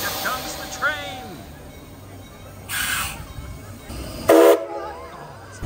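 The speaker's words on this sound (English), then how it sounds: "That train whistle is so loud that gets me every single time." A full-size steam-style train at Knott's Berry Farm theme park blasts its whistle in one short, very loud, close burst near the end, after scattered crowd noise and people talking.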